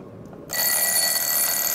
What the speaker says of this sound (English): I'm going to advance the time so we can hear the alarm.